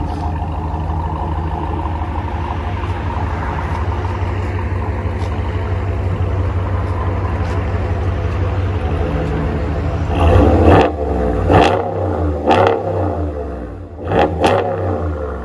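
RAM 1500 pickup with a 5.7L HEMI V8 and Corsa exhaust, idling with a deep, steady rumble before several sharp throttle blips rise and fall near the end, loud and close.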